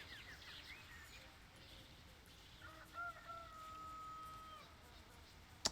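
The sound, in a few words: rooster crowing in Baldur's Gate II video game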